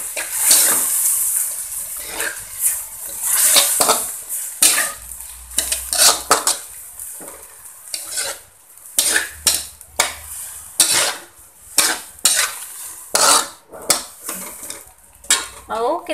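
Salted squid and a splash of water go into a pan for nasi liwet, followed by loud, close metal scraping and clanking from a spatula stirring, with a soft sizzle underneath. No voices.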